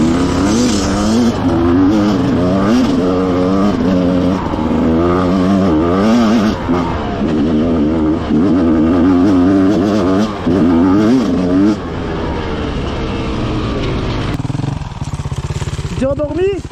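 Enduro motorcycles climb a rocky uphill trail, engines revving hard and wavering in pitch for most of the stretch before dropping away near the end, loud and close, with voices talking over them.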